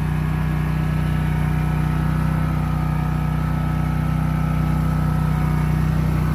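A riding lawn mower engine (2020 Spartan RZ-Pro) runs steadily at full throttle, a constant loud drone with a strong hum and no breaks.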